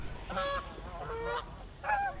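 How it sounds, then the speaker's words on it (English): Geese honk near puddles in thawing spring fields, three separate nasal calls spaced apart, fairly close and clear over a low steady outdoor rumble, with no voices. "Plenty of puddles in the fields though, and the geese, they love them."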